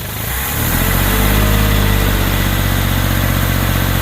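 BMW Bavaria car engine catching and settling into a loud, steady idle after carburetor work, a continuous close rumble with even low pulsing.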